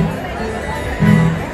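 A dense crowd of devotees at a Durga Puja pandal in Chittaranjan Park, Delhi, gives off a steady murmur of overlapping voices, swelling briefly louder near the end.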